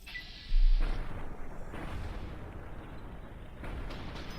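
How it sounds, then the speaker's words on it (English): A grenade going off in Fallout: New Vegas, one sharp loud blast followed by a rumbling, fading tail of debris and game noise. "Fucker threw a grenade at you."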